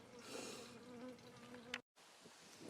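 Bees buzz steadily at close range around beeswax being processed, a continuous droning hum broken by a brief dropout near the end.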